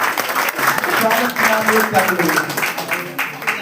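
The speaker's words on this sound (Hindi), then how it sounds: "जोरदार ताली बजाइए।" Applause at a Lok Janshakti Party block-level workers' meeting in Vikramganj, a dense, loud round of clapping from a crowd with voices mixed in throughout.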